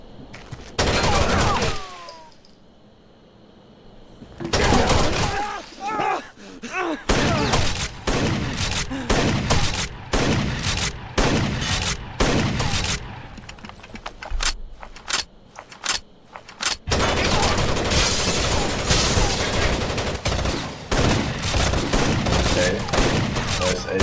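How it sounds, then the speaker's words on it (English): Rapid bursts of automatic gunfire from a video game firefight, loud and close, with dense volleys and brief pauses running through nearly the whole stretch. "Suppressive fire!"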